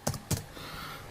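Two quick keystrokes on a computer keyboard, close and fairly quiet, followed by a short stretch of faint background hiss.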